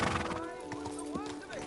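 A horse whinnies in the medieval role-playing game Kingdom Come Deliverance 2, a drawn-out neigh with rising and falling calls over a steady background hum, loud and close, with hooves faintly clip-clopping.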